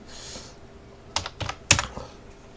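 Numbers typed on a computer keyboard, a few sparse clicks and then a quick cluster of sharp keystrokes, close and fairly quiet in a still room.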